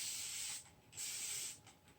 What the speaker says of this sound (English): And then I'm going to spritz it again.